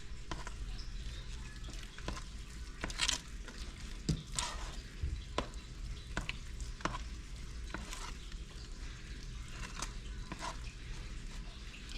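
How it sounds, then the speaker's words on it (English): Food is stirred in a pot with soft, periodic spoon strokes over a low, quiet simmering hiss. The sound is faint and close throughout, with no talking. "So let me stir it up."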